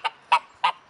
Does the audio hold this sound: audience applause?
no